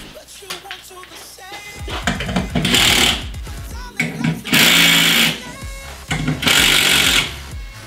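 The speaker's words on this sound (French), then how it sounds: "On va remettre un petit coup de visseuse hein, pour être sûr." Impact driver driving screws into a Triton WRA001 workshop shelving rack, three loud bursts of rapid hammering rattle separated by short pauses, with lighter handling noises and brief motor whirs in between.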